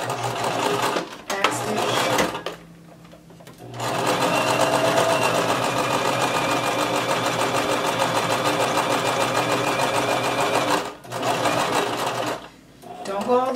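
A sewing machine stitches a 5/8 inch seam along the lower edge of a coat dress, running steadily for long stretches with brief pauses to pivot, and a voice talks over it in places.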